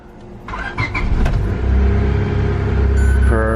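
A Honda Civic EK hatchback engine cranks and catches, then settles into a steady, loud idle rumble close by, with a brief rise in revs near the end.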